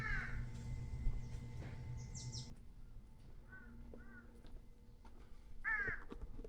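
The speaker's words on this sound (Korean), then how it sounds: "이곳은 까마귀가 다른 데보다 유난히 많은 것 같습니다." Crows caw several times in short bursts near a cliffside cave temple, some calls farther off and one louder nearby, over a quiet outdoor hum with no talking.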